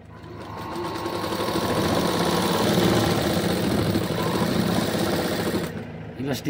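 A sewing machine runs in one continuous, steady whirring burst while stitching single-layered umbrella sleeves, then slows and stops near the end.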